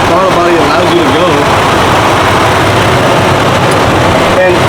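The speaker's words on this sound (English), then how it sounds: "That was the radiator fan." The radiator fan on a V6 truck fitted with a cold air intake runs as a loud, constant whirring drone over the engine, with people talking nearby throughout.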